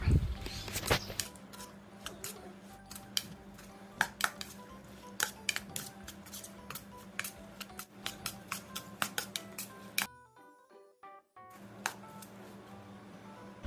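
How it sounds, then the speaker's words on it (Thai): Rice noodles, grilled mackerel and salad ingredients being tossed together in a bowl for a spicy Thai noodle salad, giving steady quick clinks and scrapes of utensils against the dish, close and continuous, with a brief pause near the end. "คลุกข้าวส่วนผสมให้เข้ากันเลยครับเพื่อน"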